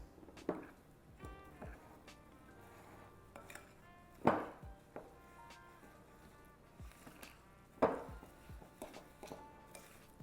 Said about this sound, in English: we're just going to give it a bit of a stir around to combine